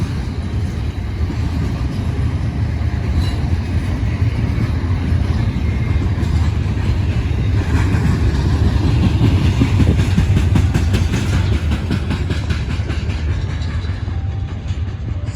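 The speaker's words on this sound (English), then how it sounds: "I still hear that locomotive." A freight locomotive rumbles past at Cresson, Pennsylvania, making a loud, close, steady roar with low rumble and rail clatter that continues without pause.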